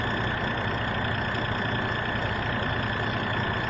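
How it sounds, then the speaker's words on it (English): A tractor engine in Farming Simulator 2013 runs at a steady, continuous drone, its low rumble holding constant without pauses or other sounds over it. "Off we go with this tractor to the field."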